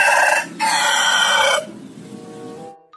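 A rooster crows loud and close in a short, strained burst with a brief break partway, then trails off into quieter rasping and ends abruptly.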